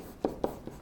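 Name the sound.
drawing a graph by hand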